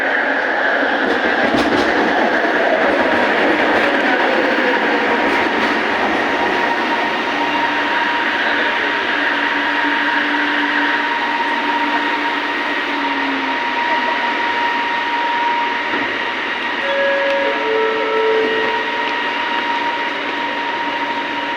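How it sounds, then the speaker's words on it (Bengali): A metro train pulls into a station in Malaysia with a loud sustained rumble and hum, faint rail squeals and tonal whines rising and falling, steady and close throughout. "এই যে ট্রেন চলে আসলো।"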